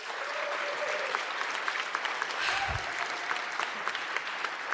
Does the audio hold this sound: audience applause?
yes